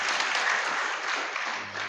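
Audience at a regional IPHI working meeting in Probolinggo applauds the hosts in thanks, a brief, even burst of many hands clapping at moderate loudness.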